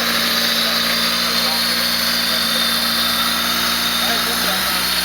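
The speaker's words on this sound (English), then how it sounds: "That motor sounds damn good. The motor sounds great." A Honda D16Z6 engine idling steadily just after its first start-up, a constant even hum at moderate level with a light mechanical whine, and people talking nearby.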